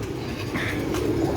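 Pigeons in a breeder's loft, including Lal Pari birds, give soft low cooing amid a steady murmur of loft noise, near and continuous without talk.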